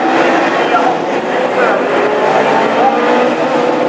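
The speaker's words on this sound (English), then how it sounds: "Revving, and it's green and go! And away we go in this final." Loud, dense roar of classic hot rod race cars revving together at close range at the start of a final at Hednesford, steady throughout, with a voice partly buried in the noise.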